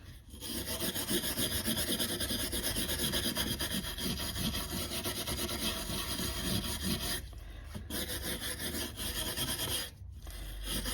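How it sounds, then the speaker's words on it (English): Wooden pistol mounts being sanded by hand: continuous close, rhythmic rasping strokes of abrasive on wood, with two brief pauses near the end and no voices. "Let's get them cleaned up, sand it down a little bit"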